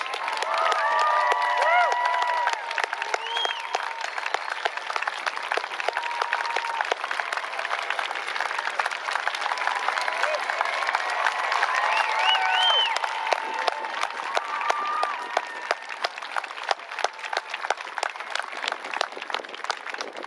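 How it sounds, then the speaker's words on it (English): Rally crowd at a Black Lives Matter educational rally in Menomonee Falls, Wisconsin, applauding and cheering steadily for young speakers, dense clapping with scattered shouts throughout, fading slightly toward the end. "can we please give these young people another round of applause?"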